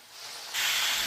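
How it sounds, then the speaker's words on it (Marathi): Wheat-flour dough rolls drop into hot oil and set off a sudden, loud, steady sizzle and hiss that jumps up halfway through, following a quieter stretch of faint background noise. "मुठले तळताना घाई करायची नाही।"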